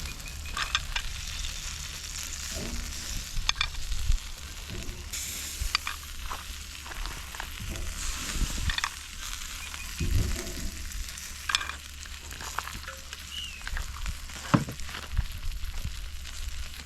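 Sausages fry and sizzle on an outdoor grill during a Hawaiian catch-and-cook, giving a steady close hiss with occasional pops and faint handling knocks, and almost no talk.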